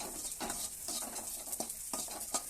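A spoon stirs chili powder into hot sesame oil in a pan for mango pickle after the flame is turned off, giving repeated soft scraping strokes in a steady rhythm over a faint sizzle.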